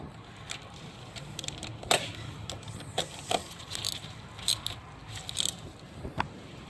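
A 1/4 inch ratchet snugs self-locking nuts on the throttle body of a 2008 Suzuki Forenza, giving quiet, scattered metallic clicks and light taps at close range, with no one talking.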